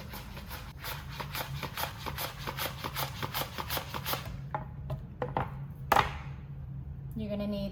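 Honeycrisp apple pressed across a mandolin slicer, making a fast run of rhythmic crisp scraping strokes, then a few slower separate cuts, close and fairly quiet.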